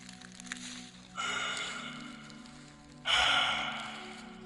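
Two long, heavy breaths drawn in and pushed out slowly, a voice imitating labored breathing, close and hoarse over a faint low hum.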